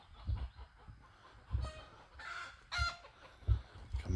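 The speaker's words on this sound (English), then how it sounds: "What's up, crazy chickens?" Several chickens in a backyard run cluck and squawk in irregular bursts, close and fairly clear, with one higher crowing-like call mixed in and no talking.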